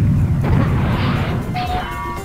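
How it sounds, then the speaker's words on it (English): A rocket jump blast in the Serious Sam first-person shooter: one loud, low boom near the start that rolls into a sustained rumble. A brief tonal pickup chime follows toward the end. "Let me rocket jump up there"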